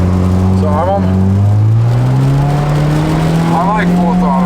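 A Honda Civic engine held at full throttle in deep snow while barely moving, a loud, close, steady drone that climbs slowly in pitch, with someone talking over it.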